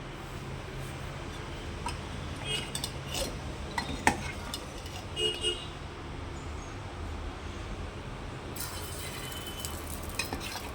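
Millet dosa batter cooking on a hot pan, a quiet continuous sizzle with scattered scraping and clinking of a spatula.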